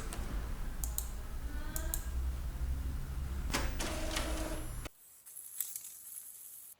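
A printer runs off a tattoo transfer print, giving a steady mechanical whir with repeated clicks and paper-feed noises that stop abruptly near the end, followed by a few faint clicks in near silence.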